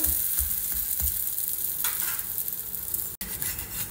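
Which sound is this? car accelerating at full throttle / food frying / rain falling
food frying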